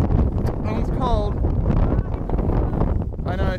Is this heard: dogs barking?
no